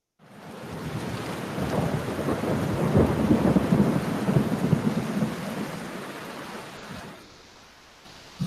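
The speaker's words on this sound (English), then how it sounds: "Do you hear the thunder?" A long, rolling rumble of thunder builds up under a wash of rain, holds loud for several seconds, then fades away, with no voices.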